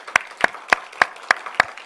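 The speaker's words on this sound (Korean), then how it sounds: "우리 수고하고 애썼다 박수 한번 하시죠" A church congregation claps in unison, seven sharp evenly spaced claps, loud and close with no talk over them.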